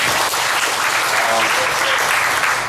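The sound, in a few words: audience applause in church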